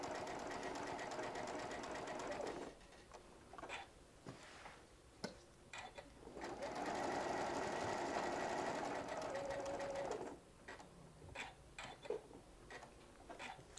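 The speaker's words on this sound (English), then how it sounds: "You get used to the rhythm of your machine so you'll know what your next stitch is going to be." A sewing machine stitches a St. Patrick's Day parade craft in steady running bursts with short pauses between, close and fairly loud, with faint ticking as the needle slows.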